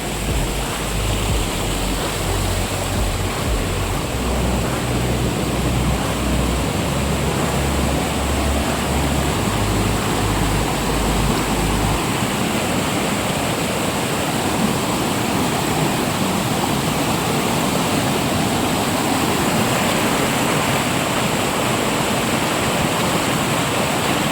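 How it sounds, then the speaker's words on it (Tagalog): Waterfall fed by a natural spring on farmland, a loud, steady broadband rush of falling water that continues without a break and without voices. "Yung po ang falls, oh."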